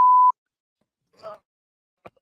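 A short electronic beep from a fire alarm in a commercial, a single clear tone followed by near silence and a couple of faint brief sounds.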